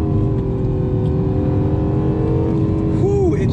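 A 2020 Acura NSX hybrid supercar brakes hard, with a loud, steady engine and road drone. Near the end, a brief tire chirp rises over the drone.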